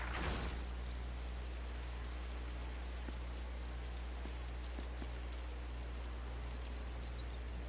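Steady, close rain hiss pours down in the golf video game Hot Shots Golf World Invitational, a constant wash with faint scattered drops and no voices.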